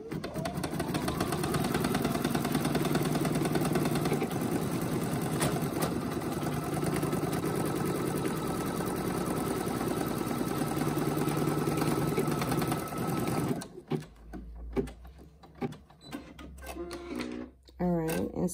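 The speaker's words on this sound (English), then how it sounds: "We're on 17, and 17 is just going to do a stitching at the bottom." Brother NQ1700E embroidery machine stitching a bag, a steady rapid mechanical whirring and clatter for most of the stretch, then stopping, followed by scattered handling sounds and a person talking.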